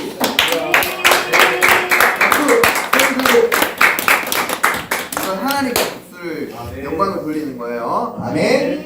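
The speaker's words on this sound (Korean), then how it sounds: "하나님께 영광의 박수" Children at a Korean Sunday school worship service clap together in church, a quick run of loud, rhythmic claps for several seconds before voices and chatter take over.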